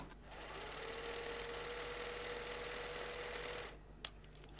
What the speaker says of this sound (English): Sew the brim piece to the crown piece as pinned. You may wish to switch to that free arm sewing on your machine also.